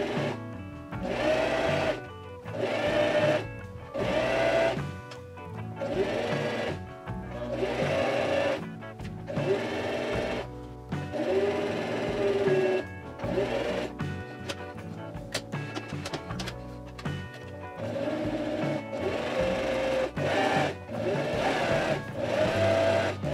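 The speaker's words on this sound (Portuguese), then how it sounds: "Bora pra máquina então, fazer essa costura que é rapidinho." A sewing machine stitches a protective face mask cord in repeated short bursts with brief pauses between them, running close and steady.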